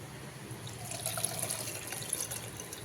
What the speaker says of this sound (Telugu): చెంబులో వాటర్ తీసుకోవాలి